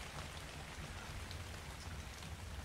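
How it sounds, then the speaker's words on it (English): Steady rain patters on a thatch roof inside a base in the video game Ark, drops leaking through in a constant, close, even wash with no voices. "Oh, it's just leaking because it's thatch."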